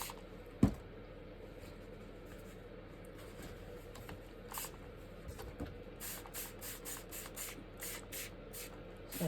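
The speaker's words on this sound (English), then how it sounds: "Spray my paper again." A spray bottle mists water onto paper in a quiet studio, giving a run of short, soft hissing puffs in quick succession after a single sharp tap.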